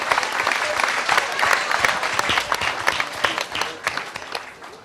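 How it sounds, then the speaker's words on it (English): Studio audience applause on a newlywed game show, a loud dense wash of clapping with sharper individual claps standing out, continuous throughout. "A round of applause for our gentlemen"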